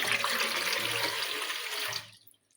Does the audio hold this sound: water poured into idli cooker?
yes